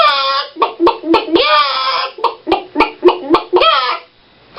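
A person imitates a chicken with their voice, producing a quick series of loud, nasal clucks and one drawn-out squawk, close to the microphone, then briefly stopping.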